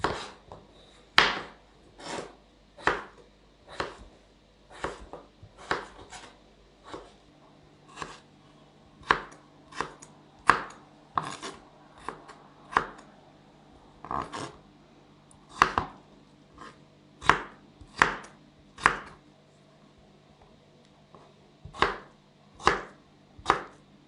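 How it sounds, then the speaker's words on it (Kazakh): Knife chopping potatoes on a cutting board, a long run of sharp, distinct close-up strikes at an uneven, fairly quick pace, with no voice. "Картошкамызды турап алдық."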